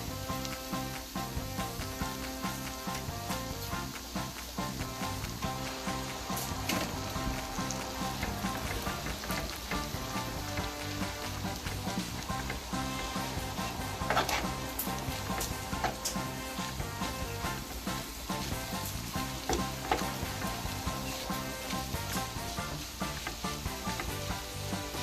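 Steady, close sizzling of food frying to a golden color in a pan before spaghetti goes in, a dense crackling hiss with occasional louder pops, continuous for the whole stretch with no talking.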